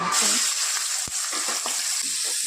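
Peas frying in oil with turmeric and cumin, a loud close sizzle broken by quick stirring strokes and one sharp knock against the pan.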